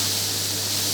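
Bacon frying in a pan for pasta carbonara, a dense, steady sizzling hiss close by with an even, unbroken texture throughout.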